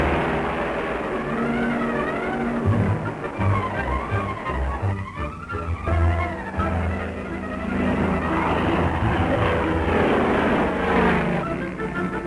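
P-51H Mustang fighter planes take off, their propeller engines making a steady, loud, continuous drone throughout, with a faint musical soundtrack underneath.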